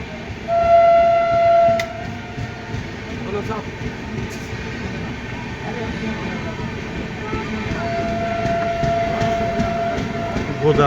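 Godavari Express passenger train running from Hyderabad to Visakhapatnam, passing at night with a loud horn blast at the start, then a steady rumble and rattle of carriages rolling by, with a voice talking over it.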